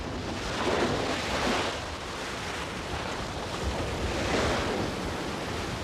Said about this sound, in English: we don't have much choice but head right into the gales